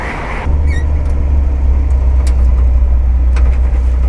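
A 1961 Chevrolet Corvair engine running rough while driving, a loud steady low rumble and drone with road noise, a short brief squeak near the start.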